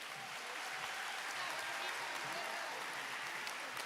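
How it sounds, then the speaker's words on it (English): Steady audience applause at a school recognition ceremony, a dense even wash of clapping from a crowd, sustained without break at moderate volume. "Let's give our physical therapy another round of applause."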